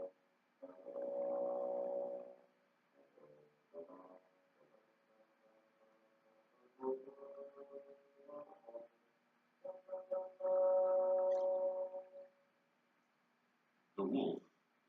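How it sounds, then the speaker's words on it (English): A very low bassoon plays the grandfather theme from Peter and the Wolf in separate sustained phrases with pauses between them, fairly quiet and alone. "The grandfather by the very low bassoon."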